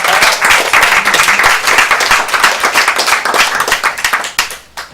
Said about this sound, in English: So there's lots of applause going on